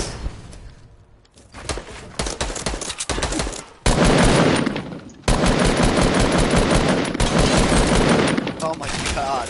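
Fortnite Battle Royale gunfire: dense, loud bursts of rapid automatic fire and shots in long stretches, with brief pauses between volleys and an excited voice mixed in.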